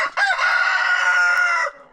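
A backyard homestead rooster crowing once, a loud, close, sustained cock-a-doodle-doo lasting under two seconds with no talk.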